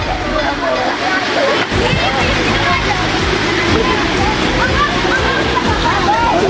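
River water rushing and splashing close by, a loud continuous gush that fills the whole clip, with faint voices in the background.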